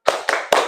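Three sharp, close hand claps in an even rhythm from a clap-along ice-breaker game, loud and alone.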